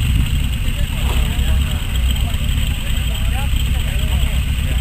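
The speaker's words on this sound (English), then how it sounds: "Got some cars pulling in still." Cars pull into an outdoor car show with a continuous low engine rumble and idle that stays at a steady level, while people talk nearby.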